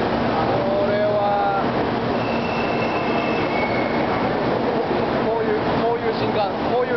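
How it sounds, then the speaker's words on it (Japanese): Shinkansen bullet train arriving at Shin-Osaka station, a steady rolling rumble with brief high wheel squeals and rail noise throughout, loud and continuous, with a person speaking over it. "いや ー、新幹線が来ました。"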